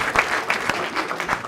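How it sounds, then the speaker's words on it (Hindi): A short, lively burst of crowd applause, many hands clapping together close by. "एक बार जोरदार तालियां"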